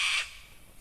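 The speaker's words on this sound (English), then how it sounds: "I hope you can hear the birds in the background because they are just magnificent" A bird squawks loudly and close for a fraction of a second outdoors in nature, then fades into a quiet open-air background.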